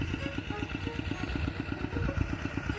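Engine of a water pump drawing water from a pond to fill a rice field, a steady rapid chugging throb, close and continuous, with no pause.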